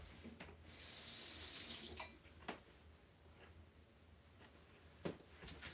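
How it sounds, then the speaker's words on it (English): Kitchen tap runs briefly as a spoon is rinsed, a close hiss of water for about a second and a half, followed by a few faint clinks and taps in a quiet room. "I'm going to rinse off the spoon."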